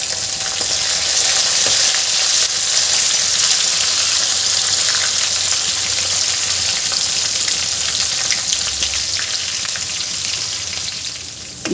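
Potatoes and fenugreek leaves with green chillies sautéing in a hot pan, giving a loud, steady, continuous sizzle with faint stirring throughout and no talk.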